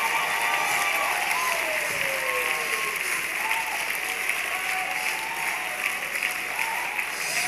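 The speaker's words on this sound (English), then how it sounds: "I said, clap like you have it already." A church congregation at a conference claps steadily and densely for the full stretch, a continuous wash of hands with faint tones and voices underneath.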